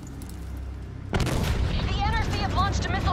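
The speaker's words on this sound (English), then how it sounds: "Launched a missile barrage." Missile barrage in Call of Duty Black Ops 3: after a quiet moment, a sudden heavy boom kicks off a dense rumble of explosions and gunfire, with voices talking over the battle.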